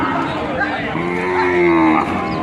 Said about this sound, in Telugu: ఈ గుడ్డి దూడలు అమ్మకానికి వచ్చాయి అనమాట